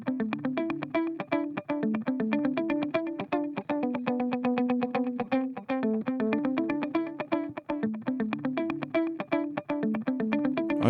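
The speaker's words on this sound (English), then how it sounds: "let's take a listen to Valhalla Delay. Again, we've got a bit of modulation and a bit of drive going on this plugin too." A repeated plucked synth or guitar pattern runs through the Valhalla Delay plugin with modulation and drive, giving steady rhythmic notes with echoing repeats and a slightly gritty, wavering tone, loud and continuous with no talking.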